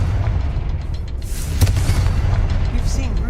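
A Confringo fire spell bursts in Hogwarts Legacy, a short booming impact landing midway through steady cavern ambience, with faint game effects around it.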